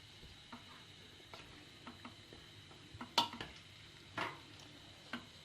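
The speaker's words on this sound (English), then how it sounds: "it's just a case of stirring them and breaking them down slowly" Blackberries are stirred in a pan while jam is being made, giving soft, irregular scrapes and taps from the spoon. A few sharper clinks stand out against a faint background, and no one talks.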